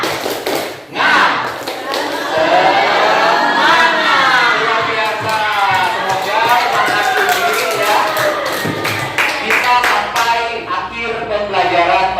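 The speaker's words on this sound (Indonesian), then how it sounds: "Tepuk semangat, tahu tepuk semangat?" A classroom of students claps in a rhythmic patterned chant, sharp hand claps landing in quick bursts alongside shouted, sing-song group voices, loud and close throughout, with the claps punctuating the chanting in a steady beat.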